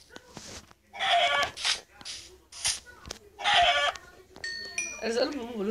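Chickens cluck and squawk in short, loud bursts with brief gaps, one drawn-out crowing call rising near the end.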